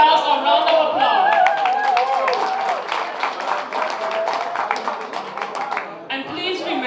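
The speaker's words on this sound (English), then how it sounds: "Then give yourselves a round of applause." Guests at a health care gala on St. Eustatius applaud in a crowd. Clapping builds under a voice speaking over it, then carries on as a dense, sustained wash of hands.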